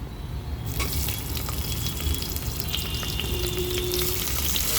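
Loud, continuous sizzling of food frying in hot oil, a sudden burst of crackle as onion is added, steady throughout.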